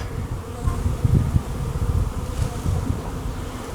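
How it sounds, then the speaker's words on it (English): Honey bees swarm around newly started hives in a loud, steady, close buzzing drone that swells and dips without pause, with no talk over it. "Shai, will you get my picture surrounded by thousands of bees?"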